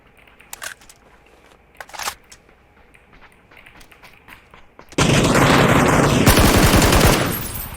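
Sustained automatic gunfire from a PUBG match erupts loud and dense at the halfway mark, following a few scattered distant shots and softer in-game noises; no talking.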